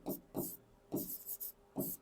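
Pen strokes scratching on paper as notes are taken during a horticulture class, four or five quick rasping strokes close up and fairly faint.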